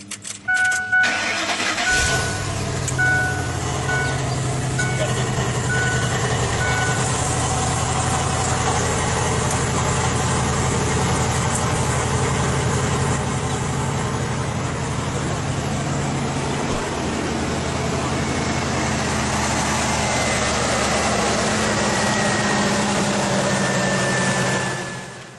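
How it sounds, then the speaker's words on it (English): A water-powered engine, started without electrolysis after its tank is filled with water, cranks and catches near the start, then runs at a steady loud idle for the rest of the clip with no talking. "we're going to be able to start it without electrolysis and run this engine"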